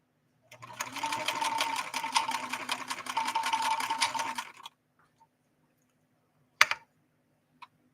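A 1970s Kenmore 158.13520 sewing machine stitches a wide zigzag in one steady four-second run, close and rhythmic, followed by silence and a couple of sharp clicks.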